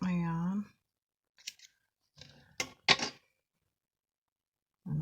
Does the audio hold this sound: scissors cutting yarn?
yes